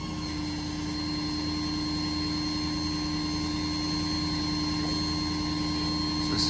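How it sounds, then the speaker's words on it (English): Steady hydraulic whine and diesel engine hum from a 2016 Ford F-550 with a 42-foot ETI articulating bucket boom aerial lift, running continuously and evenly at moderate distance with no talk. "Hydraulic articulating function there as shown."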